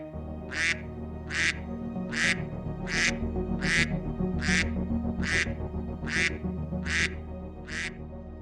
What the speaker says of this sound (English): And now, the sounds of ducks.